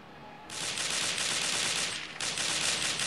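Video game gunfire from an M4A1 rifle bursts in as a dense, rapid, loud rattle of shots, breaking off briefly before resuming just as hard, with no talking over it.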